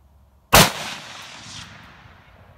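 A single loud rifle shot from a 30-06 or 300 Win Mag being sighted in at a farm range, a sharp close crack followed by a rolling echo that fades out over two seconds.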